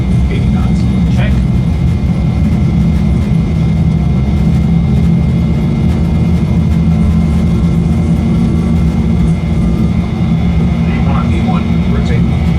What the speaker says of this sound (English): Takeoff thrust is set.